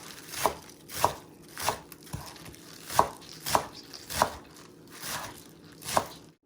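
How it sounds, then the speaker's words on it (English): A knife chops green onions on a cutting board in about ten crisp, sharp knocks at an uneven but steady pace, close and clear with no talk. "let's chop up some greens"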